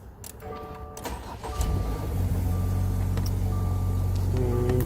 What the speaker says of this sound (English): I'm going to start the vehicle.